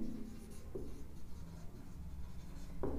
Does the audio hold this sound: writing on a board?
yes